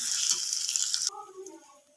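Garlic frying in hot oil gives a loud, dense, steady sizzle that cuts off abruptly partway, leaving quieter soft rustling and a faint tone afterward.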